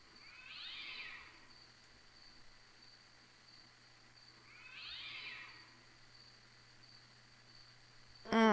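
A cat in the video game The Kite gives two separate meows a few seconds apart over a quiet game backdrop with a faint steady hum, and a brief louder sound cuts in at the very end.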